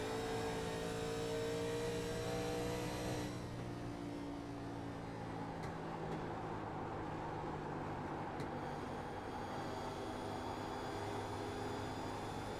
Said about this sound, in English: We're going to listen to the throttle.